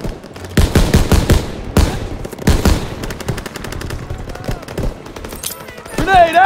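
Heavy machine guns rattle in bursts through a World War II city battle in Call of Duty WWII, loud and close, with rapid repeated gunfire cracks and shouted commands mixed in.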